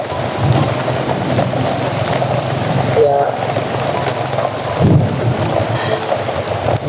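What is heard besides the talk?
heavy rain with thunder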